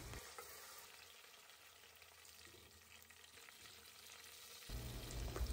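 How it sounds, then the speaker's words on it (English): Meat fries in hot palm oil in a pot for gizzard pepper jollof rice, a soft even sizzle near the mic that swells louder in the last second. "Heat up 3/4 cup of palm oil. Don't blanch it. Go ahead and fry the meat until lightly brown."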